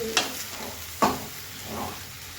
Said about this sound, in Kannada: ಇವಾಗ ಮಿಕ್ಸ್ ಮಾಡ್ಕೊಳ್ಬೇಕು